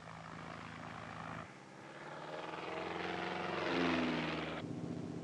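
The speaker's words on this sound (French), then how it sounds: "Voici le décollage du premier tandem." Small airplane taking off for a seal-hunt spotting flight over pack ice, its propeller engine droning steadily and loud, shifting pitch partway through and swelling toward a peak as it climbs, with no voices.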